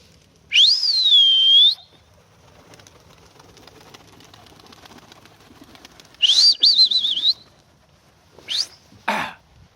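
Pigeons on a farm flap their wings in a few short close bursts, each carrying a whistling flutter, separated by stretches of near quiet.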